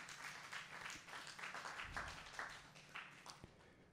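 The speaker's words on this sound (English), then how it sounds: "Please give her a round of applause." Quiet, distant applause from the audience at a youth programme certificate ceremony, honouring coordinator Hyacinth Bradley, a loose scattering of hand claps spread over a few seconds with some louder individual claps.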